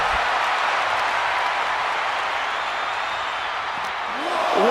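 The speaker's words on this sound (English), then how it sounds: "Listen to this crowd." A virtual arena crowd in the WWE 2K26 wrestling video game roars as a steady, loud wash of cheering and applause that swells slightly near the end.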